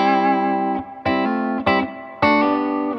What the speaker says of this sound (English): it also takes this Alnico humbucker takes overdrive great